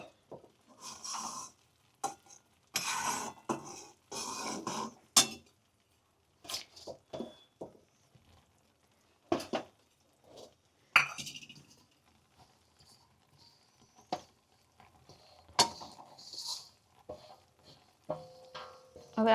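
Spoon stirring a sweet wheat mixture with jaggery and ghee in a pan for a traditional Gujarati dish, giving intermittent scraping and soft sticky patter in short bursts with quiet gaps between.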